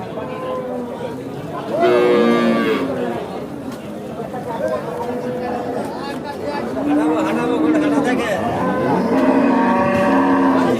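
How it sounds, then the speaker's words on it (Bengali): Cattle at a busy livestock market moo loudly several times, long drawn-out calls rising over steady crowd chatter and nearby talking. "আমরা এই পাশে একটি বিগ বডির একটি গরু দেখতে পাচ্ছি দর্শক ভাই, অনেক বড় একটা গরু।"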